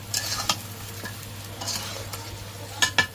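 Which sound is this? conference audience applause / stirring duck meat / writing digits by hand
stirring duck meat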